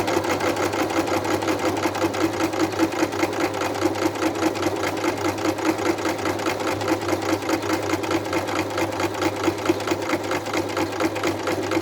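A pedal-controlled straight-stitch sewing machine runs steadily and loudly up close, its needle chattering in a fast, even rhythm that holds throughout without pause.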